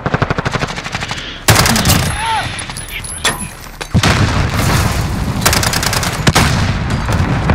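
Rapid submachine-gun fire from an LWRC SMG-45 (Striker 45) in the Modern Warfare video game: loud, dense automatic bursts, with sharper booming shots breaking in, layered over continuous game-action noise.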